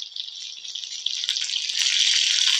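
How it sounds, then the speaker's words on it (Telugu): Chicken pieces and chopped onions fry together in a pan, giving a steady, fairly close sizzling hiss that grows slightly louder toward the end, with no voices. "వీటితో పాటు ఈ ఉల్లిపాయ కూడా వేగిద్దండి"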